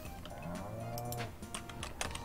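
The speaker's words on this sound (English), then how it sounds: "The cows are being very loud right now." Cattle mooing in the farming video game Stardew Valley, several drawn-out low moos overlapping one another in a loud, busy farmyard chorus with no talking.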